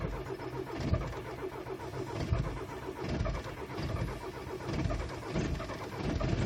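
A Volkswagen TDI diesel engine struggles to cold start at -20C, with repeated cranking surges and rough, uneven sputtering that rises and falls without settling into a steady idle, close by.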